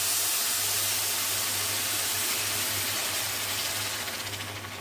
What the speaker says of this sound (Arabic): كده بقى هضيف الميه بتاعتي